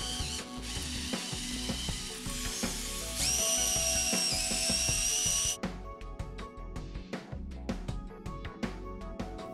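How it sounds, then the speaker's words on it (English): A 4-inch core drill whines steadily at a high pitch while cutting through a low-slope roof membrane into insulation, then stops, followed by clicking and ratcheting mechanical sounds nearby. "Use a 4-inch core drill to cut through the membrane and down into the insulation"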